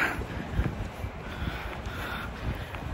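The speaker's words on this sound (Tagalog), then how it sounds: "Lakas ng hangin." Steady rushing wind in New Zealand buffets the microphone throughout, a loud continuous roar with gusty low rumbles and no voices.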